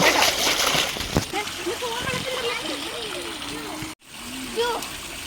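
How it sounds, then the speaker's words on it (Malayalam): A child jumps and splashes in water outside, with choppy sloshing and splatter while a voice talks over it, and a brief drop to near silence partway through. "പുറത്ത് വെള്ളത്തിൽ ഇങ്ങനെ ചാടി കളിച്ചു."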